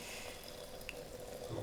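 Hot boiled water poured into a cup of ginger powder for an infusion, a steady close splashing trickle lasting the whole moment, no voices.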